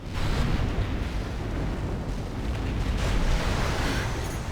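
A turret explodes in the video game Armored Core 6, giving a dense, roaring blast with rumbling debris that holds at full loudness for several seconds and never fades to quiet.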